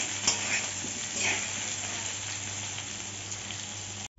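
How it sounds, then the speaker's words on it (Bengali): Potato and taro pieces frying in hot oil, a steady close sizzle with occasional stirring scrapes throughout, no talking. "গাঁঠি কচুটা দিয়ে ভালো করে ভেজে নিচ্ছি।"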